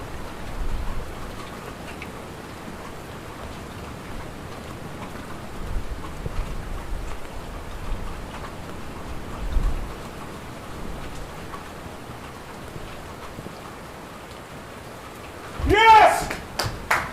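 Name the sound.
rain falling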